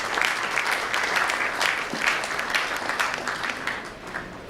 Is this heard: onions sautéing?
no